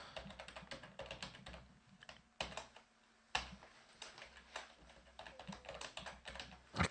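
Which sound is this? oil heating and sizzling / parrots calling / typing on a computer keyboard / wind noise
typing on a computer keyboard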